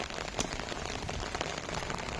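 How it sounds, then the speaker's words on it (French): Heavy rain pours down steadily on a southern French village during a thunderstorm cloudburst, a dense, loud hiss of drops hitting surfaces with no one talking. "Et ça fait continuer de pleuvoir"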